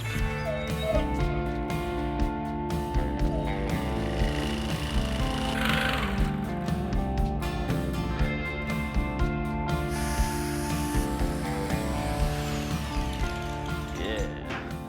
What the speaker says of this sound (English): I think I'm just gonna use the common jigsaw.